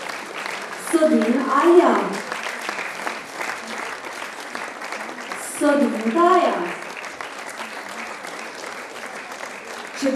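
Applause for young athletes at a ceremony: two bursts of clapping from a seated audience, each a few seconds long, with a voice announcing names in between.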